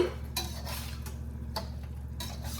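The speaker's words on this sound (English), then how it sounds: "I'm gonna get this stirred up." A spoon scrapes and knocks against a pot while spaghetti sauce is stirred, a few close clinks and scrapes over a steady low hum, with no talking.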